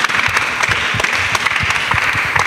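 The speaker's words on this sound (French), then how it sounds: "Acclamez pour lui." Brisk group clapping at a church gathering with child disciples and their pastor, steady and close for a couple of seconds with no voices over it.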